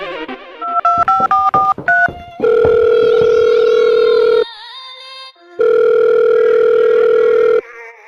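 A telephone dial tone, then a rapid run of touch-tone beeps as a number is keyed, followed by long steady ringback tones with a pause between.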